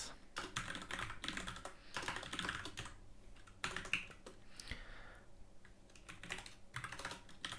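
Steady bursts of typing on a computer keyboard while coding, a continuous run of close, clattering keystrokes with brief pauses and no talking.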